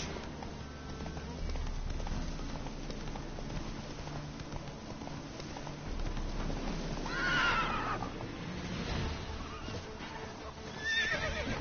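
Roach, Geralt's horse in The Witcher 3, lets out a loud whinnying neigh over clip-clopping hooves and background game music, with a second shorter whinny near the end.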